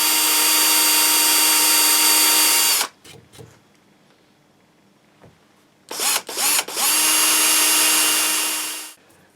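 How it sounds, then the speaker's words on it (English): A loud, steady electric drill whine from a 3mm drill bit, working on a headless guitar build, runs for a few seconds, stops with a few short bursts, then revs up and runs steadily again before winding down. "we're just using a 3mm drill bit in our drill here"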